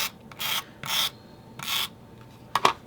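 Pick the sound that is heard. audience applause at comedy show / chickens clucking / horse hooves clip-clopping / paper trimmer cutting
paper trimmer cutting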